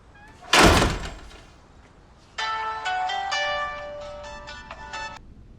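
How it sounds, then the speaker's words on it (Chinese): A door thuds shut, then after a short pause a mobile phone ringtone plays an incoming-call melody of bright repeating tones for about three seconds, fairly close and clear in a quiet room. "小公，你怎么来电话了？"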